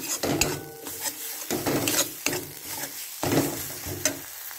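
Chilli and cumin powder stirred in a frying pan for a rohu fish dish: repeated scraping spatula strokes in rhythmic bursts over a light sizzle, close and fairly loud.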